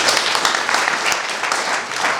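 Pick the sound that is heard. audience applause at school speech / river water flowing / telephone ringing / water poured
audience applause at school speech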